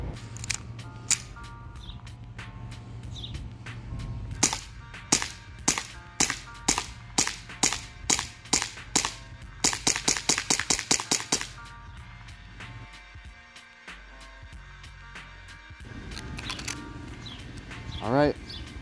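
Umarex M9 airsoft pistol firing a rapid series of sharp, close shots in bursts, with quieter mechanical handling clicks between volleys and a brief stretch of background noise.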